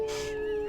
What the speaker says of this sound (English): Do a nice howl.